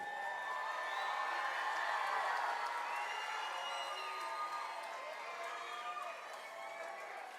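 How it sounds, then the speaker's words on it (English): A large audience at a fourth grade choral festival cheers and whistles continuously, a bright wash of shouts and whoops that stays loud throughout. "you can whistle and cheer and let them know where you're sitting"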